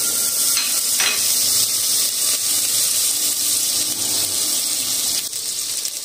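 Butter sizzles and fries loudly in a cooking pot at the start of a home-style Chinese chicken vegetable soup, a steady dense crackle close by with faint scrapes of stirring and no talk.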